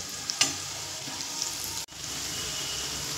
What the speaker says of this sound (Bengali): এবার আলতো করে এইভাবে নেড়ে নেড়ে ভেজে নেব।